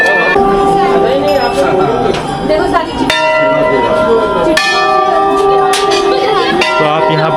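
Bells ring out at Golu Devta Temple in Uttarakhand, sharp metallic strikes every second or so with long shimmering tones that overlap, loud and close, while people talk in the background.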